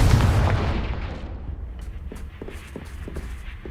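A Confringo blasting spell goes off in Hogwarts Legacy with a heavy, booming explosion that rumbles and fades over a couple of seconds, followed by a few light footsteps and small pops.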